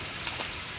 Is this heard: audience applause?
no